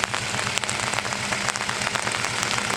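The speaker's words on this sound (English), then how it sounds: "it turns out that it's raining" Steady rain falls on a Japanese auction lot on a morning, a dense even patter of drops on hard surfaces with no one talking.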